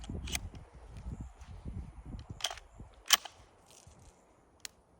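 A 12 gauge shotgun fires 3.5 inch steel shot at a 3/4 inch plywood board outdoors, giving one sharp, loud report near the middle, with a few fainter cracks and clicks before and after it.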